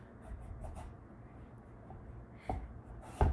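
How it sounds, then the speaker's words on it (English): A knife works through a squash on a cutting board, cutting it in half from top to bottom. Faint scraping is followed by two sharper thuds as the blade pushes through and strikes the board. "from top to bottom, cut your squash in half"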